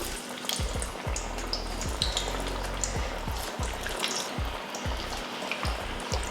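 Urad dal vada batter dropped into hot oil, a steady bubbling sizzle with repeated low plops and splashes as pieces go in, close and fairly loud, no voices.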